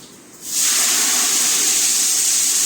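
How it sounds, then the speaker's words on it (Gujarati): Water poured into a hot tempering of cumin seeds and asafoetida bursts into a loud, sustained steamy hiss that surges after a quiet start and holds strong until the end. "હવે પાણીનો વઘાર કરી લઈશું આપણે"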